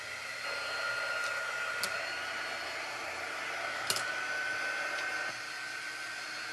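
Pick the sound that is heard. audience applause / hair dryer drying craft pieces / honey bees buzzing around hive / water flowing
hair dryer drying craft pieces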